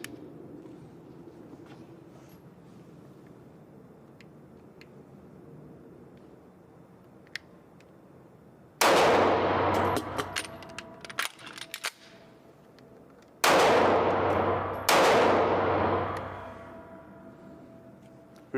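A Taurus G2C 9mm pistol magazine is pulled out and seated again, heard as a few sharp metallic clacks and rattles, loud and close, with handling noise in between and no talk.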